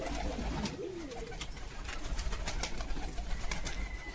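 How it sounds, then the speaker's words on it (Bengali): Pigeons of various breeds kept by a seller coo softly, with repeated low, rolling calls over a quiet background hiss and no talking. "কবুতর প্রচুর আছে ভাইয়ের কাছে"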